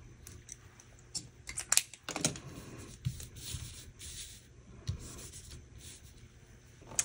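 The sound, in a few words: writing with a Uniball Signo pen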